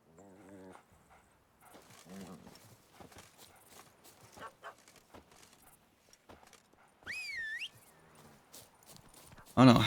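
Rhythmic hoofbeats of a horse galloping in a video game clip-clop through the scene, with whinnies, squeals and other game sounds and a voice talking over them.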